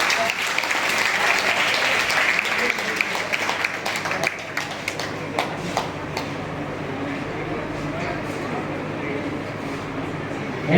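An audience at a village anti-drug awareness gathering in India breaks into loud, dense clapping that thins into scattered claps, while people keep talking over it.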